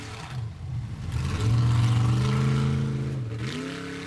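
A Formula Offroad buggy engine at an Icelandic offroad event revs hard as the driver floors it, climbing into a loud sustained wail that peaks and then drops, with a brief second rise at the end.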